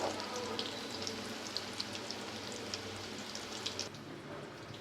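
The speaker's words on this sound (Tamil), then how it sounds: "எண்ணெயில் போட்டு நல்லா பொரித்து எடுத்துக்கலாம்" Pieces of elephant foot yam (senai kilangu) frying in oil, a soft continuous sizzle dotted with light crackling pops, close and fairly quiet, no speech.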